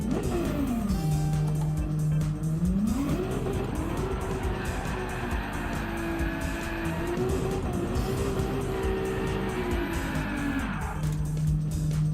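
A car in a racing video game attempts a burnout at Brands Hatch, with a continuous loud engine holding and swelling in revs under steady tyre noise, close and unbroken.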